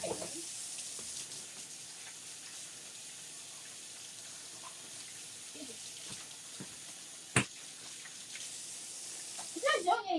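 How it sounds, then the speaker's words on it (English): Hands washed under a running kitchen tap after handling raw meat, a steady soft splash of water running throughout with a sharp clack near the middle and voices talking faintly now and then. "so we're going to wash our hands"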